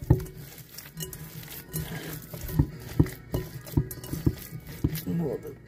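Meatloaf mixture of meat, garlic and breadcrumbs mixed by hand in a bowl, a series of soft wet squelches and clinks in an uneven rhythm, fairly quiet.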